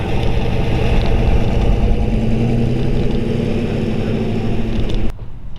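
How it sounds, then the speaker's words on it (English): A 327 Corvette V8 with solid lifters idles in a 1932 Ford three-window coupe hot rod, a steady, loud, close rumble that holds evenly before cutting off abruptly near the end. "You hear the solid lifters."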